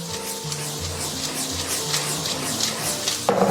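Mud snails with green and red peppers being stir-fried over high heat in a wok, with steady sizzling and scraping spatula strokes, close and moderately loud, ending in a sharper burst of hissing.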